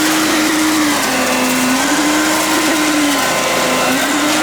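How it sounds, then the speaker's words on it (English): A concrete vibrator runs during a concrete pour, a steady motorized whine droning on without a break, its pitch wavering slightly, loud and close, with a rough mechanical buzz underneath. "You have to be extremely careful with the vibrator."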